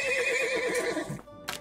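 A horse neigh sound effect plays during a tabletop role-playing game session, a single loud whinny with a wavering, falling pitch lasting over a second, ending in a short breathy snort.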